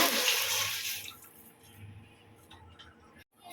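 Water splashes and pours briefly into a pan at the start, then fades into quiet low background noise with faint rumbling.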